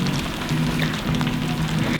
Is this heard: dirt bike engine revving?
no